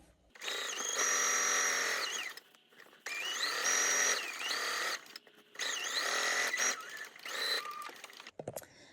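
Sewing machine stitching binding onto a Kimberbell Pumpkins & Potions quilt in three long whirring runs with brief pauses between, fairly close, ending in a few short clicks.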